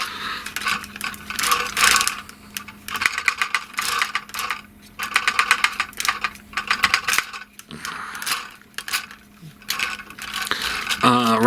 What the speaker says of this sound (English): Legs on softer ratchets.